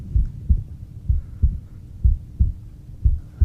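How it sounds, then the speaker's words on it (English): Heartbeat sound effect in a radio dramatization, a low muffled double thump repeating at a steady rhythm, close and alone. "It's my own heart beating."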